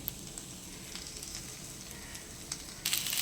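Faint, steady sizzling as boiled onion and cashews are sautéed in a pan, a soft hiss with a few small crackles and a brief louder burst near the end.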